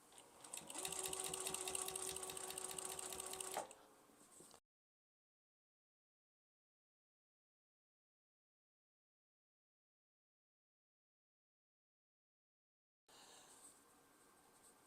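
A sewing machine stitches binding onto a baby quilt, running fast and steady for a few seconds before stopping. After a long silence it briefly starts again, close and clear with no talking.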